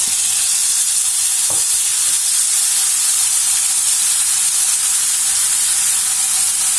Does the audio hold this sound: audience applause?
no